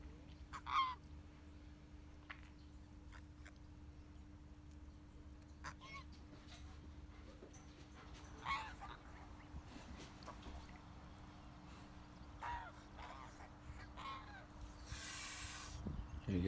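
A goose on a farm with a gosling honks a few times at a distance, short faint calls scattered over a quiet outdoor background with low steady hum.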